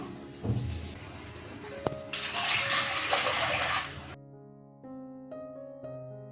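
Water is poured into a pan of avare lentils and oil being cooked for a palya, a steady splashing gush for about four seconds that then stops, followed by quiet tonal kitchen sounds.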